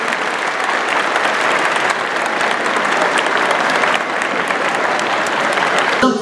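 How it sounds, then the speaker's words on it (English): Large convention crowd at an opening ceremony applauding live African penguins, loud sustained clapping from many hands filling the hall, steady throughout with faint crowd noise underneath. "Let's give our African penguins a nice big round of applause."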